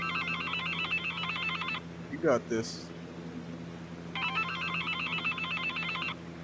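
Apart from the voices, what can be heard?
phone ringing in the video game Accounting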